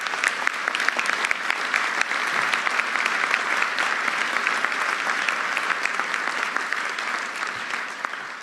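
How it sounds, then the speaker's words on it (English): An audience applauds a deputy mayor at a city government speaking event: steady, dense clapping from a large crowd, sustained and even throughout with no speech over it. "he deserves a great round of applause"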